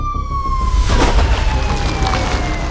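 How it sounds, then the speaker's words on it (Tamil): An ambulance siren used as a story sound effect gives a loud, slowly falling wail that starts high and sinks over a few seconds, with a dull thump partway through. "அதற்குள் தகவல் தெரிவிக்கப்பட்டு ஆம்புலன்ஸ் வந்து சேர சிவராஜின் உடல் எடுத்து செல்லப்பட்டது."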